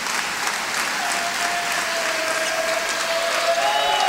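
Crowd at a women's college volleyball match cheering and clapping as the home side reaches game point, a dense, steady roar of applause held at constant loudness throughout with no speech.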